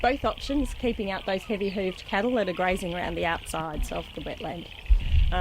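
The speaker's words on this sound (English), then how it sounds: "You can hear the lovely chorus of frogs in the background as well." A chorus of frogs croaks in the background at a wetland grazed by cattle, a steady layered calling that runs under a man's continuous speech throughout.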